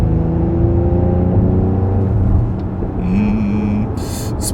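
Mercedes-AMG GLE 53 SUV with a six-cylinder engine accelerating in sport mode, heard from inside the cabin as a steady low engine rumble and road noise that swells and shifts pitch, close and continuous.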